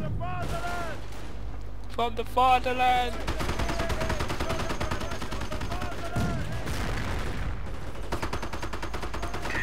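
Tank cannon and gunfire in the World War II strategy game Company of Heroes, with dense rattling bursts and booming shots that carry on throughout, loud and busy, while a voice speaks over the fighting.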